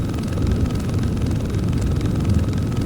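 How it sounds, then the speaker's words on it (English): A helicopter in the video game BRM 5 gives a constant, loud, low droning rotor and engine hum that holds steady throughout, with no talking. "Yeah, it's this helicopter."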